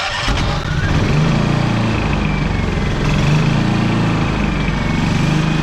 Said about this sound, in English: I'm gonna give it some choke and push the starter button